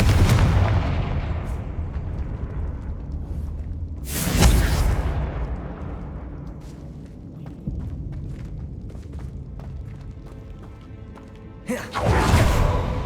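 In Hogwarts Legacy, the Confringo blast spell sets off two loud, close explosions several seconds apart, each a sharp boom that fades into a rumbling tail.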